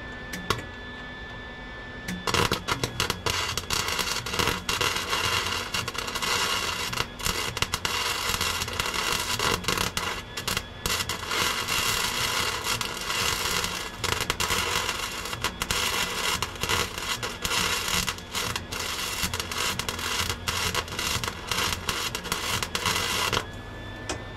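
A welding gun crackles and sputters in a long continuous burst while welding on a damaged trailer, dense spitting noise after a short quiet start, cutting off just before the end.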